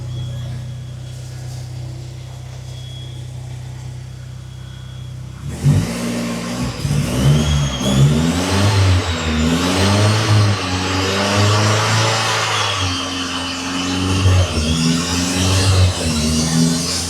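A Mercedes 190E swapped to a ZF 8HP automatic transmission idles quietly, then accelerates hard with rising engine revs and several distinct gear shifts, loud and close, with no talking.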